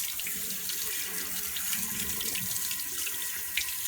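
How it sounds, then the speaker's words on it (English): A beard brush with a wooden handle is rinsed under a running tap, the water splashing and hissing steadily and close for the whole stretch, with no talk. "And then I'm just going to rinse that out."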